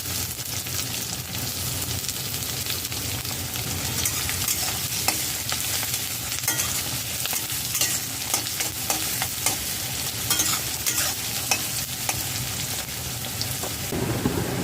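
Chopped onion frying in hot oil with garlic and ginger, stirred in a pan for a chicken bharta: a steady, close, dense sizzle with scraping stirs that continues alone for the whole stretch.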